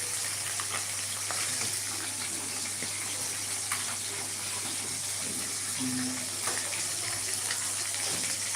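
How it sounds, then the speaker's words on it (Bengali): A constant hissing sizzle of fish frying in oil runs throughout, fairly loud and close, with a low hum and a brief tone near the middle. "মাছ ভাজা হচ্ছে"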